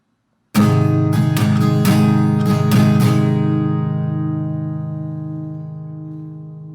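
Guitar chords strummed close up, with a few quick strokes that then ring out and slowly decay over several seconds, no voice.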